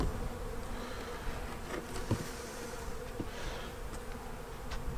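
A dense, steady hum of many honey bees buzzing close by at an opened hive, with a few louder individual bees passing near.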